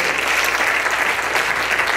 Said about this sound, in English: y'all should have clapped on that